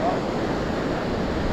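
Strong wind roars steadily across the microphone on a beach, a dense broadband rush with surf-like noise underneath, loud and constant throughout.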